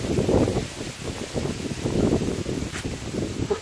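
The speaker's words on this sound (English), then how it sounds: "the wind started coming from the other direction" Wind buffets an outdoor microphone in broad, low rumbling gusts that rise and fall throughout, loud and close with no talking.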